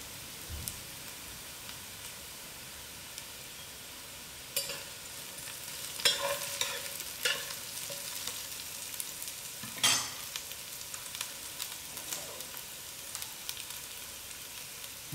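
Garlic sizzles in a pan with softened onions and leek, a steady faint crackle with occasional louder spatters and stirring scrapes across the clip, with no talking.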